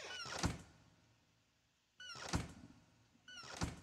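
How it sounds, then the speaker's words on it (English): Door opening in the horror game Pacify, three sharp thunking bangs, each with a creaky squeal, coming at irregular intervals with quiet gaps between. "Of all sounds they could have chose for the fucking doors, this is what they chose."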